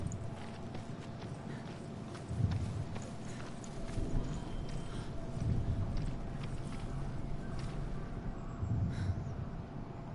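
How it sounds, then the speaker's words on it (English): Horse hooves in Hellblade: Senua's Sacrifice clop at a steady walking rhythm over low rumbling ambience, moderately close and continuous, without voices. "There's the horse."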